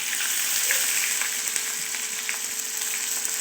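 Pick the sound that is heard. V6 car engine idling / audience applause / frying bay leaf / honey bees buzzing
frying bay leaf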